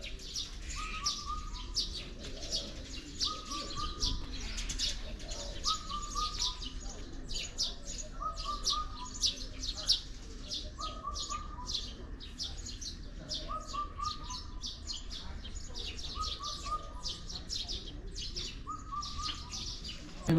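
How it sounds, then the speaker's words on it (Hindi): Birds sing in a park near a temple at Beijing's Summer Palace, a short repeated call recurring about every two seconds over a steady outdoor hiss and faint background murmur. "पीछे देखिए आप पंछी की आवाज़ सुन रहे हैं"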